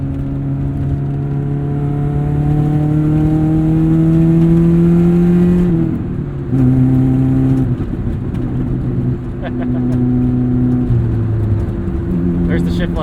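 A 1996 Saturn SC2 engine climbs steadily to high revs from inside the car, its whine rising for several seconds, then dropping sharply at a gear change before pulling up again. The engine note is loud and close.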